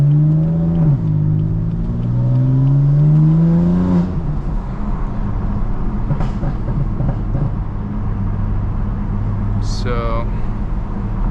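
BMW M4 accelerating in sport mode with exhaust valves open, a loud rising engine note in the first seconds that settles into a steady drone heard from inside the car, with someone talking over it.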